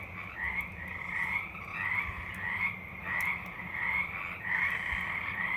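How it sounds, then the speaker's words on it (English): Frogs croak in a steady chorus of rhythmic, pulsing calls that overlap and repeat throughout at moderate volume, with no talking. "These frogs are going crazy."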